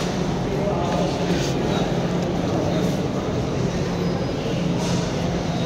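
Steady, loud rumble of a metro train ride, a continuous broadband roar with no clear breaks throughout.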